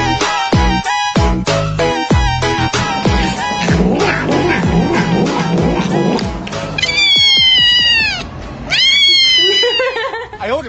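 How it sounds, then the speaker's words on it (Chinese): Young milk kittens meow in a bright, insistent series of high calls, loud and close, layered over busy background music, with several long rising cries toward the end. "谈谈那些超可爱的小奶猫。"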